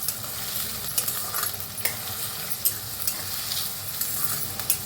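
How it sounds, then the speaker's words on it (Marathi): Chopped onion and green chili fry in hot oil for bhurji pav, giving a steady close sizzle broken by occasional scraping stirs of a spoon in the pan, with no talk. "आता कांदा चांगला तेलात भाजून घेऊया."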